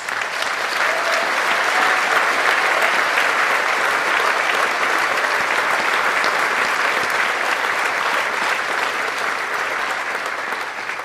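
Loud, sustained audience applause for teachers at a high school commencement, a thick wall of clapping from a large crowd that holds steady for the whole stretch and eases slightly at the end.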